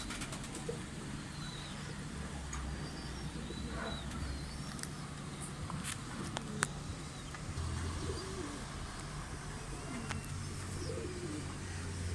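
Akbaş pigeons coo softly and repeatedly in low, rolling phrases over a constant outdoor hum, joined by occasional chirps and a few sharp clicks.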